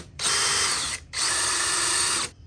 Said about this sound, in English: I'm gonna go ahead and pilot hole this plastic from this side.